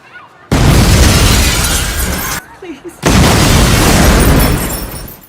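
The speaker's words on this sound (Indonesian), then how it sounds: "mereka langsung melakukan aksi bom bunuh diri yang menyebabkan tewasnya puluhan" A suicide bomb blast in a crime thriller film goes off as a loud, broadband roar that fills the scene, drops briefly, then a second heavy burst of rumble and debris follows and decays slowly.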